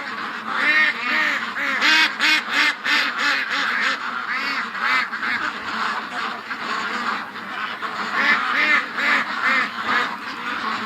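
A big flock of ducks, hundreds strong, quacks loudly and continuously around a metal shed in the bush at night, dense overlapping calls in rapid bursts with brief lulls.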